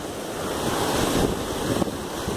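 Ocean surf breaks at a crowded beach, a continuous loud wash of waves mixed with wind buffeting the microphone, swelling slightly midway.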